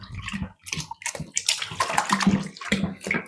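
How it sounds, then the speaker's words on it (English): Boiling water being stirred into home brew beer wort sloshes and splashes in bursts, close and fairly loud, with irregular swirling surges throughout. "Give that a bit of a mix up first."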